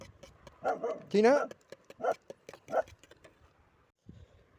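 Tina, a pet dog, barks a handful of times nearby, with one louder, drawn-out yelp among shorter woofs. A person briefly calls to her between the barks.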